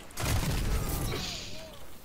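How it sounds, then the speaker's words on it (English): Shotgun fire in a video game: a loud, booming burst of blasts at the start, with gameplay noise trailing after. "You brushed me with a shotgun and I just popped."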